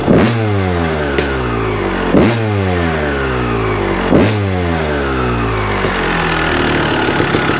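A 1998 Honda CR250 two-stroke motorcycle engine revs hard three times in quick succession, each blip sharp and loud before settling into a buzzing, crackling idle, close by with no talk.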